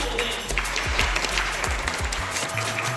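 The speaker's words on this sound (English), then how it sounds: "Can you clap for them?" Teachers in the audience at a Uganda website projects competition applaud, a dense wash of claps filling the hall at steady strength, with some low rumble underneath.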